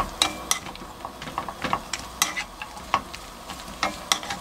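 Flat-sliced bottle gourd stir-frying in cooking oil with minced garlic, a soft sizzle under repeated sharp spatula clicks and scrapes against the pan in an uneven rhythm, no speech.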